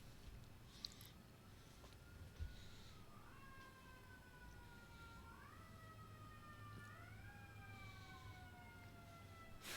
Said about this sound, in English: I've got real life sirens outside my window.